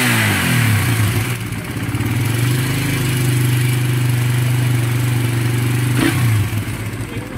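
A second-hand motorcycle engine running loud and close with a steady mid-pitched drone, rough rattling and knocking texture throughout, a brief rev swell near the end and no voices.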